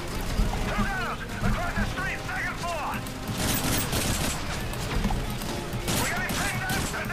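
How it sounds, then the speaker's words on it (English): Gunfire from an unfamiliar weapon in a Call of Duty: Modern Warfare 3 campaign mission, dense overlapping shots and booms in a busy battle, steady and fairly loud, with a voice talking over it. "What the hell kind of gun is this?"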